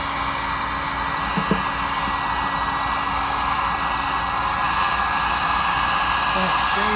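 A heat gun or hair dryer blows steadily on a BMW E46 interior trim piece, a continuous loud broadband whoosh of airflow and motor hum that holds an even level throughout without pause.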